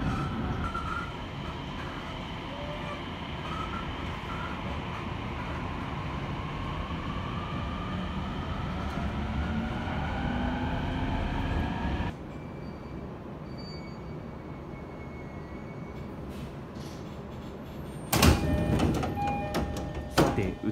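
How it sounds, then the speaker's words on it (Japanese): Inside a Utsunomiya Line local train, a steady rumble of wheels on track and a whining motor fill the car, then the sound drops to a quieter hum midway before a brief clattering burst near the end. "列車は東鷲宮までやってまいりました。"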